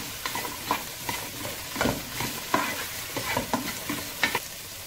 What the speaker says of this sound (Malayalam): അതെല്ലാം ചേർത്ത് നന്നായിട്ട് ഒന്ന് വഴറ്റുക.